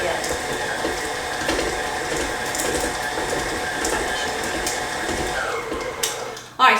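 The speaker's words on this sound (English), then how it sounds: "you can see that the mixer's struggling just a little bit, and that's normal" A stand mixer strains as it churns chocolate chip cookie dough, giving a steady, close mechanical whirring and grinding with a ratcheting texture that runs throughout and ends in a brief louder knock.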